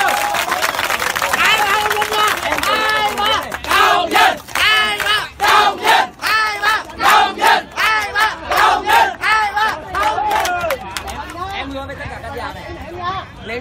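A large crowd of football fans for a Ho Chi Minh City team roars with loud, rhythmic chanted shouts and clapping, bursts rising and falling in a pulsing pattern, close and energetic.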